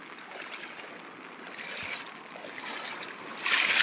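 The overflowing Changavadi river near Apalvad village in Gir Gadhada rushes across flooded farm fields, a steady broad wash of moving water, faint and distant, swelling louder at the end.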